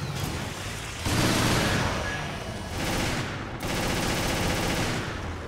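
Sustained fully automatic weapon fire in Resident Evil co-op mode, a dense continuous roar of rapid shots in bursts with brief dips between them, loud and close with no voices.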